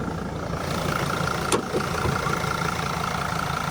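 A low-mileage Mercedes Sprinter van's 2.7 five-cylinder diesel idling under the open bonnet, a close, steady, smooth rumble with an even beat and one brief click partway through.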